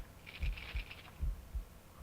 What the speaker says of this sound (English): do you hear that? Yeah, like a heartbeat.